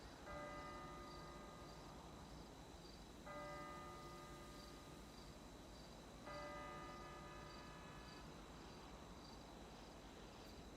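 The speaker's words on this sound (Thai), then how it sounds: "เสียงระฆังอย่างดังอะ่ะ" In GTA V, a loud bell rings out in three long, sustained strikes over steady ambient background noise, each tone lingering and fading before the next.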